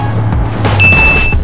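A hydraulic crusher presses down on a sports car, with a low steady hum, scattered knocks and clinks, and a sustained high metallic squeal midway as the body gives way.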